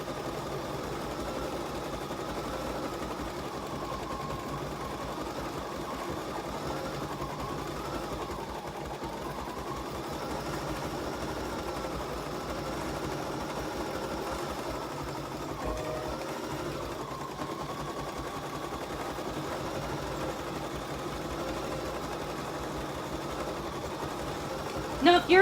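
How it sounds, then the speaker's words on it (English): Bernina embroidery machine with a cutwork tool cutting fabric, a steady low mechanical hum with a rising and falling whine running for the whole stretch, with a voice speaking now and then. "I'm going to go ahead and start my machine and let it do the number 2 cut."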